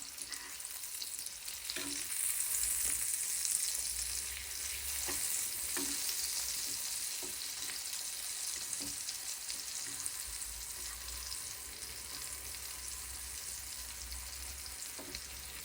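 A tomato cheese omelette fries in a pan with a continuous, even hiss of sizzling oil and a few soft taps, heard alone and fairly close throughout.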